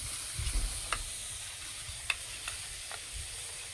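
A spoon or whisk stirring gram flour (besan) batter in a bowl, with faint scattered clicks and scraping ticks against a quiet background hiss.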